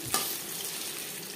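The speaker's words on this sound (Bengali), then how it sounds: "আমি শ্যালো ফ্রাই করছি, আপনারা চাইলে ডিপ ফ্রাইও করতে পারেন।" Spiced fish shallow-frying in hot oil over a medium flame makes a soft, steady sizzle with one brief crackle at the start, faint and without speech.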